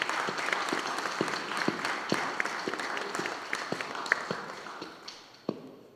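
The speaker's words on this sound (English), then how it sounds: "Let's give them a big round of applause." A congregation applauds in a church during a baptism and communion service, a loud, steady wash of clapping with a few sharp individual claps standing out, gradually thinning toward the end.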